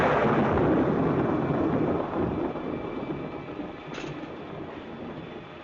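Heavy rumbling thunder rolls through a stormy night, a broad, loud, continuous roar that slowly subsides, with rain hissing underneath and a faint brief tone near the end.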